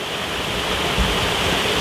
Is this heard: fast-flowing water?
yes